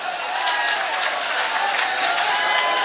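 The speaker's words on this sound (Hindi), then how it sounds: "एक बार हमारे चाचा ताऊ के लिए भी तालियां बजा दीजिए" Sustained applause from an audience at an All India Mushaira poetry gathering in Harra, Meerut: dense, even clapping mixed with crowd noise, loud and steady throughout.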